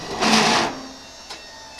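Hiniker tilt lift hydraulic pump raising a snow plow blade on a raised GMC Yukon, a short electric motor whir lasting about half a second, close, followed by faint clicks.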